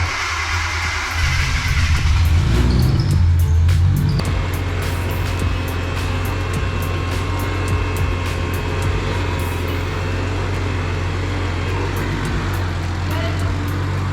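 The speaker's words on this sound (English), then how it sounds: "I kind of just want to let it idle for a little bit, break the engine in" A freshly built Nissan Skyline R33 with its RB engine idling in a steady low rumble, heard close by through a constant mechanical hum with some voices in the background.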